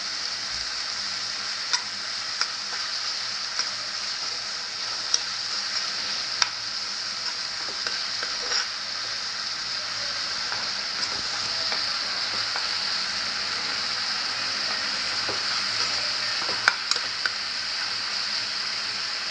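Egg bhurji with onion, tomato and turmeric frying in a pan, a steady, loud, even sizzle that continues throughout with faint ticks of stirring and no speech.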